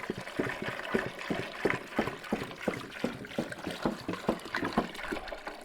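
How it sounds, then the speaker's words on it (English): Water poured into a cooler holding a chicken and ice, a continuous splashing, gurgling flow with rapid pulsing bursts, close and fairly loud. "I'm probably gonna want to add some more water."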